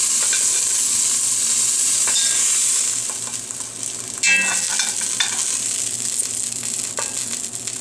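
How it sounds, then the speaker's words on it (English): Beef pieces browning in a hot pan for stock, a steady close sizzle with occasional stirring scrapes and a louder clatter midway, no talk. "I think the meat's just about all browned"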